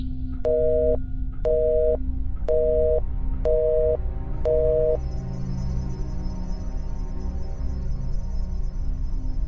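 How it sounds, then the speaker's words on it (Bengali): A telephone line gives five evenly spaced electronic beeps, each about half a second long. They are followed by a low steady hum, with no speech. "কট করে ফোনটা রাখার শব্দ পেলাম, আর তারপরেই সব চুপ।"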